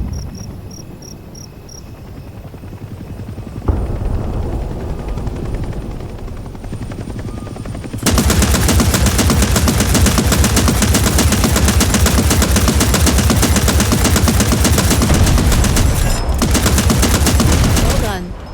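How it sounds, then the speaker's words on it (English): In the Vietnam War game Hell Let Loose: Vietnam, a helicopter's rotor thrums before an anti-aircraft gun opens up in sustained, rapid, loud automatic bursts that continue to the end, with insect chirping faint underneath early on. "enter the AA gun and shoot down the enemy chopper"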